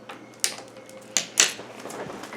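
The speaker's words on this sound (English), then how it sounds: "I have shuffled these cards quite a few times, but we'll do just a couple more for you." Tarot cards are shuffled in a quiet room, giving a few sharp crisp riffling snaps spaced apart over low background hiss.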